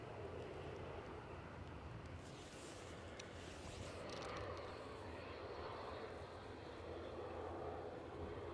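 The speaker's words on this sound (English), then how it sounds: "next inbound is Lufthansa from Frankfurt" Lufthansa Airbus A321 airliner arriving at Edinburgh airport in strong gusting winds, a distant steady jet engine roar that swells slightly and blends with wind noise.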